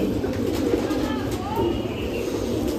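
Pigeons at a pigeon sale coo in soft, rolling calls over a steady background hum, nearby and moderately loud, with a voice heard faintly at times.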